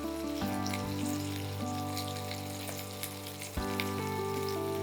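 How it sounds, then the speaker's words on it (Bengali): Chicken pieces fry lightly in ghee for a chicken ghee roast, giving a steady, soft sizzle and crackle throughout alongside a constant low hum. "আচ্ছা, এটা কি খুব বেশি ভাজবে না হালকা ফ্রাই হবে? হালকা ফ্রাই হবে।"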